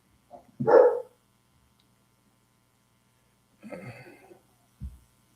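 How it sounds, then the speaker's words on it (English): A dog barks once, fairly close, then after a pause a second softer bark-like sound and a short thump follow. "my dogs are barking"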